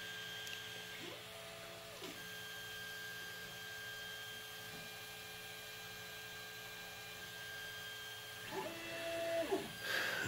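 A 3D printer running auto bed leveling on a large heated plate, a steady mechanical hum with repeated rising and falling stepper motor whines and brief movements, close and without talk.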